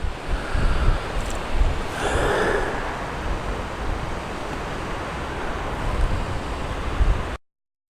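Strong wind roars and buffets the microphone outdoors near Braemar Castle in Scotland in a continuous rushing blast, gusting louder near the start, before cutting off abruptly.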